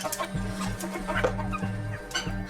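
Backyard chickens clucking close by in a walled compound, a steady run of short repeated clucks over a low background hum.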